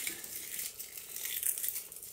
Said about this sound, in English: I'm just gonna crumple them up